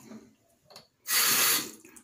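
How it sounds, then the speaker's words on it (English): Tap water gushes into a sink while shaving soap is being prepared, a loud, steady rushing stream that starts abruptly after a moment of quiet handling sounds and runs for about half a second before cutting off. "here comes the water"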